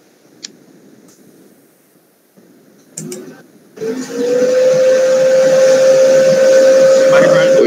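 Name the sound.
vacuum cleaner running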